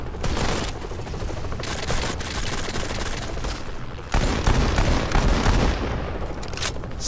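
Rapid gunfire from the Modern Combat 5 shooter game, dense overlapping bursts of automatic shots, loud and close, with a heavier volley kicking in partway through.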